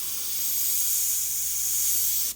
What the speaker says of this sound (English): But I'm spraying this very dark